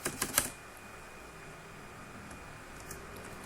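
A few quick keyboard keystrokes tapped on a computer during a Python NumPy coding session, clustered at the very start and then followed by quiet room hiss.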